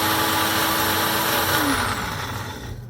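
A kitchen blender whirs at full speed chopping fresh cilantro in its cup, a loud close motor whine that holds steady, then its pitch slides down as it spins down toward the end.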